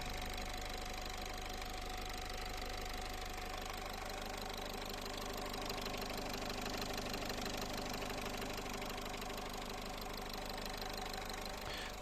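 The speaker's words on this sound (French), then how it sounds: "démarrer le véhicule, laisser tourner le moteur au ralenti" A car engine idles steadily while the vehicle is checked for a coolant leak, giving a continuous even hum that holds at a constant level throughout with no voices.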